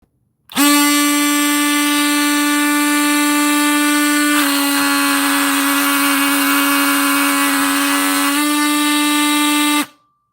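An oscillating multi-tool runs at full speed, a loud, steady, high-pitched buzz lasting nearly ten seconds that dips slightly in pitch midway and then climbs back before cutting off abruptly.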